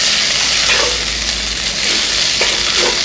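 Crumbled sardine and onions being stirred in a frying pan, a close, steady sizzle with scraping stirring strokes throughout.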